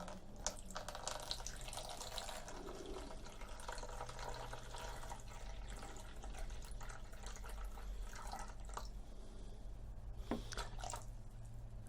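Water runs steadily into a container on a scale for several seconds, a continuous splashing pour with a low hum underneath and no talking.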